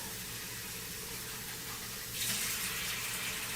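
Rice rinsed under running tap water gives a steady rushing flow that swells louder partway through as the stream hits the grains, continuous and fairly close with no talking.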